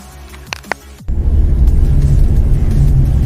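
A car with a freshly replaced boost control and recirculation valve starts its test drive; after a couple of faint clicks the engine rumble swells in loudly and holds, heard from inside the cabin.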